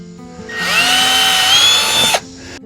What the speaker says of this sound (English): I just drill that first hole